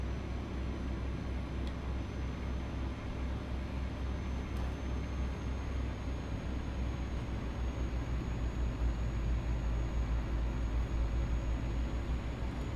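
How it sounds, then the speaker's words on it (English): A heavy truck engine in Euro Truck Simulator 2 drones steadily and low, a constant rumbling hum with faint road noise holding even for the whole stretch. "Does sound like a respectably engined truck."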